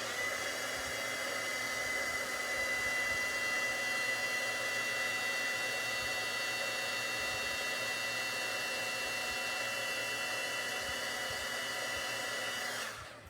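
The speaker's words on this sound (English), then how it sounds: "I'm going to turn the heat tool on really quick." A craft heat tool runs steadily for about thirteen seconds, blowing hot air for embossing with a loud, even hiss and motor whine, then shuts off abruptly at the end.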